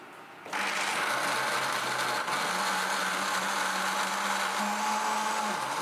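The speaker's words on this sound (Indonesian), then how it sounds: "Tutup, lalu nyalakan blender sampai halus." A kitchen blender switches on and runs loudly and steadily, whirring almonds with water and sweetener into almond milk, with slight pitch shifts as the mix smooths out.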